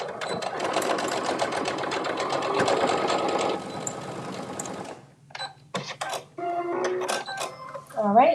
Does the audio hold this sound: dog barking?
no